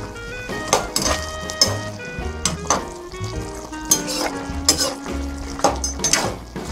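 Chicken with fish sauce stirred in a pan for pininyahang manok gives repeated clanks and scrapes of a utensil and a light sizzle, heard under prominent background music.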